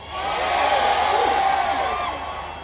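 A huge crowd cheers and whoops at the 2019 British Grand Prix at Silverstone, a dense, loud roar sustained throughout with scattered shouts.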